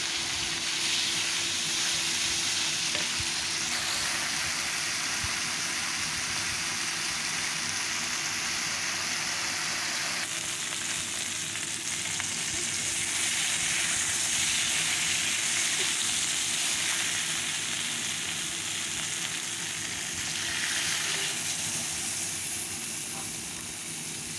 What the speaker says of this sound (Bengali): শুধুমাত্র সজনাটা এখন কষাতে থাকবো ভাজা ভাজা করে